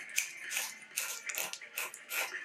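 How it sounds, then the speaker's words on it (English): The bezel of a vintage Bulova watch clicks as it is turned, a quiet run of crisp ratcheting ticks in quick clusters, close up and alone. "Let's see if it's clicking nicely. The sound is nice of the bezel."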